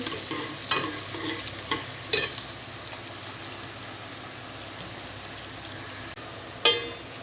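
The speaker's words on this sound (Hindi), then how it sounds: "प्याज हमने इसके अंदर ऐड कर लिया है और प्याज को थोड़ा फ्राई करेंगे।" Chopped onions fry in a pan for a lentil and bottle gourd dish, giving a steady soft sizzle throughout with a few sharp clicks of a spoon against the pan, close and alone without talk.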